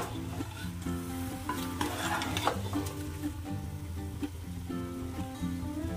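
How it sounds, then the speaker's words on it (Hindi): A spoon stirs rice and chicken together in a pot while the mixture sizzles and fries, steady close-up scraping and hissing with soft clinks, no voices. "इस तरह से हमें चावल को और चिकन को बढ़िया से मिलाकर अच्छे से चला लेना है।"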